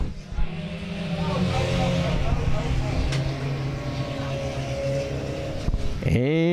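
Sport compact race cars run at South Texas Speedway, their engines droning steadily close by with a bright revving surge near the end, a crowd murmur and announcer-style talk underneath.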